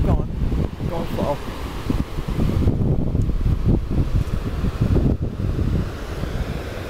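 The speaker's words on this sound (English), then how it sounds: "Oh, wind, gotta go." Strong wind buffets the microphone on a cliffside hiking trail by the Santa Cruz River in New Mexico, a loud, continuous roar with gusty surges and some rustling.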